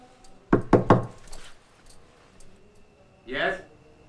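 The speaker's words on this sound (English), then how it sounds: "So knock on the door." Three quick, close knocks sound in a row, followed after a pause by a brief voice.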